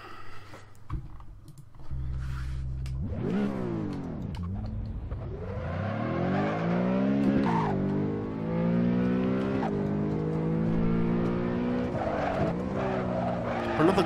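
A BMW M3 E92 race car in Assetto Corsa revs and accelerates hard, the engine note climbing and dropping through gear changes, with tire squeal mixed in, loud and close throughout.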